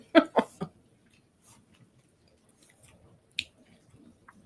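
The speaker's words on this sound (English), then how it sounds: "I should finish chewing." Chewing an ube cookie: a quick burst of three or four close, crunchy bites at the start, then near-silence broken by faint mouth sounds and one sharp click.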